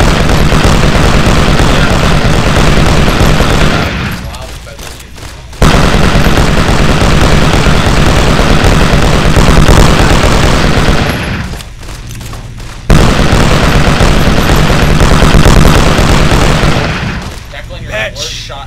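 Very loud, dense gunfire and explosions from Fallout New Vegas roar in long sustained stretches broken by two brief lulls, with talk heard over the din.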